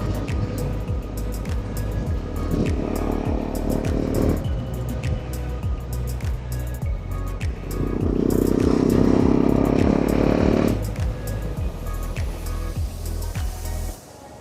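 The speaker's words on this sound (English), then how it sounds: "Even the exhaust note that you were hearing before, probably now it will be much lesser than that." Motorcycle exhaust note picked up on a moving ride through a DJI Mic 2 with noise cancellation on, a muffled engine drone with rhythmic clatter and a swelling rev in the middle before it cuts off.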